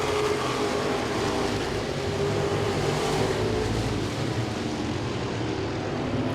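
Modified race cars roaring around Langley Speedway, a loud, sustained engine drone that swells and holds as the pack passes.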